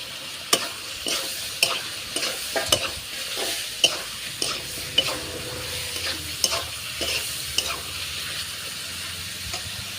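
Ridge gourd tossed into a spice paste in a pan, frying with a steady sizzle and hiss while a spoon scrapes and stirs in repeated sharp strokes; close, fairly loud and without talk.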